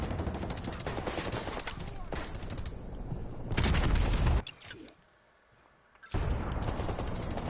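Sustained AK-47 automatic gunfire in Modern Warfare Remastered, loud dense bursts running several seconds, then a sharp boom, a brief near-silent gap, and another burst of firing.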